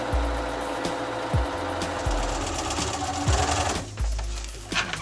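A sewing machine stitching a pocket with a small stitch length, giving a steady mechanical whir with regular needle thumps, close and clear, and nobody talking.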